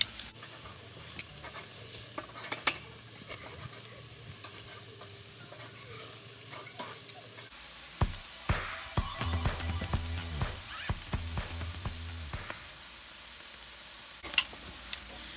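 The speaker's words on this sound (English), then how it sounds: "So the burgers are starting to get a nice bit of colour now, so we're going to turn them over" Smash burgers on a grill, a steady sizzle with utensil scrapes and taps, swelling into a louder, busier crackle as the patties are flipped partway through.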